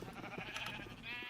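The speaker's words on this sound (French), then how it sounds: "il y a un bruit là, mais c'est quoi ces moutons là" Sheep bleat repeatedly in a video game, a dense layered cluster of farm animal calls sounding at moderate volume with no one talking over them.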